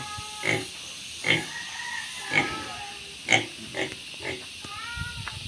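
Pigs grunt in a loose series of short, snorting bursts, about seven of them, close by with a faint hiss in the background.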